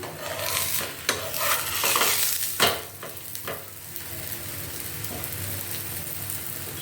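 Aloo paratha cooking on a hot pan over a medium flame, a soft steady sizzle broken by several sharp scraping and turning clatters of a spatula against the pan, close up with no talking.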